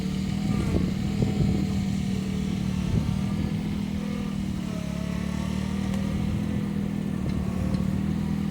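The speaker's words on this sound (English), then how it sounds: "This tractor I'm using is a SOLIS H24 Plus." A SOLIS H24 Plus compact tractor engine runs steadily at a low, even drone throughout, with faint clattering on top and no change in pace.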